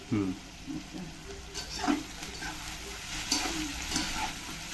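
Dry red chillies, asafoetida and onion-garlic masala fry in a hot pan for a jackfruit curry, giving a steady close sizzle with small crackles and a few scraping stirs.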